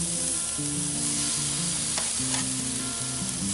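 Chicken wings sizzle steadily over hot charcoal on a grill, a constant close hiss of fat and searing skin running the whole time without a break, with no voices.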